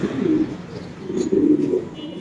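A pigeon at a home pigeon farm coos in soft, low, rounded calls, two close cooing phrases repeating in a steady rhythm against faint background noise.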